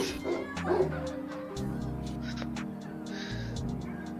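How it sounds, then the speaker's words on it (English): Dog barks and yips mixed into a music stream, several sharp repeated barks and a whimper over a steady musical backdrop, fairly faint in the mix. "You're mixing in some dog barks"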